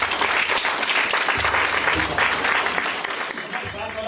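Guests applaud at a wedding ceremony after the vows, with sustained, dense clapping from a crowd, loud and steady throughout while a voice talks over it.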